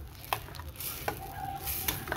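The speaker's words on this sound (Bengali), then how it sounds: "মশলাটা একটু ভাজাভাজি করে নেব" Turmeric and spices fry in oil in a pan for a mushroom and egg dish, a steady soft sizzle with a spatula scraping and stirring in short strokes, close and alone.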